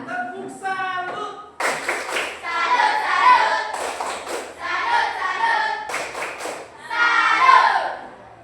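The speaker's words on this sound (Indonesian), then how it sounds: "Tepuk salut" Rhythmic tepuk salut clapping from a classroom of children: repeated bursts of hand claps in patterned sequences, loud and close, with short pauses between phrases and a brief voice at the start.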